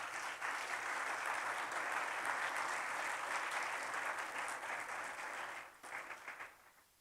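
A church congregation claps together in sustained, dense applause from a distance, holding steady for several seconds before thinning out and fading near the end.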